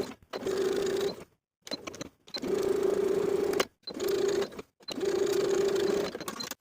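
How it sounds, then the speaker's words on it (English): A sewing machine sews the outer and bottom edges of a plaid wool jacket pocket flap, running in five short bursts of steady stitching separated by brief silent pauses. "Sew the outer and bottom edges with a 1/2 inch seam allowance."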